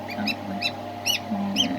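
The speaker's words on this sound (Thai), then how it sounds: "พวกห่านเพิ่ง ออกมาได้ประมาณสักสองสามชั่วโมงค่ะ ออกจากไข่ละ" Goslings only a few hours out of the egg give high, thin peeps in short repeated bursts, close and clear over a steady low background hum.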